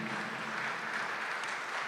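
A church congregation applauds in a brief, continuous wash of clapping, steady and moderately distant, with no voices standing out.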